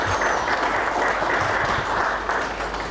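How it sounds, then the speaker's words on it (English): Steady, dense applause from an audience at the closing ceremony of a darts championship, a continuous wash of clapping filling the room without pause. "Give them a huge round of applause for them."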